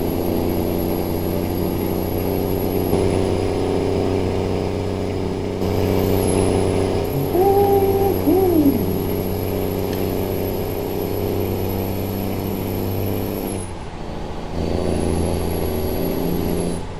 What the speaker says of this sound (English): Why this truck don't want to stop, man?